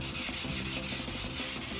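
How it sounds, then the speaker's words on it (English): Hand sanding of primer on a Midas car, a close, steady rasping rub in quick repeated strokes with no talk over it. "We're under candlelight, sanding the Midas."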